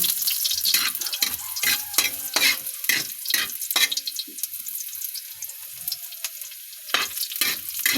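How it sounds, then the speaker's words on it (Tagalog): Garlic fries in a pan for adobo, a close, crackling sizzle broken by repeated spoon-stirring scrapes in irregular bursts, steady and loud with no voices. "Hintayin natin na magkulay brown yung bawang."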